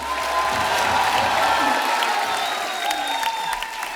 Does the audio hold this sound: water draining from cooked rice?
no